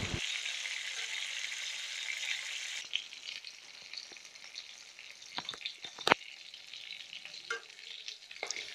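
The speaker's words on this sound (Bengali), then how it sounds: "পটলগুলোকে আমি তেলের মধ্যে ভালো করে ভেজে নেব" Pieces of pointed gourd (potol) frying in oil for a vegetarian doi potol dish, a steady soft sizzle with occasional stirring clinks and scrapes, close and alone.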